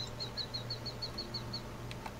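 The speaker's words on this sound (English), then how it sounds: "I hear bird noises." Bird calls in a zoo-building video game: a quick series of about ten evenly spaced high chirps over a low steady hum, then a couple of faint clicks.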